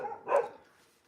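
Dogs barking outdoors, one muffled bark rising briefly over a low background murmur, heard faintly at a distance.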